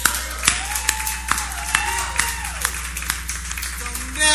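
Scattered hand claps sound from an audience at a poetry and music event, with a thin, uneven rhythm over a steady low hum, while a voice talks through part of it.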